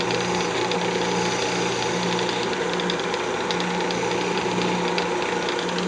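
A woodturning lathe spins as a cutting tool bites into wood shaping an incense holder, giving a steady, close whirring drone with a continuous rasping cut and no pauses.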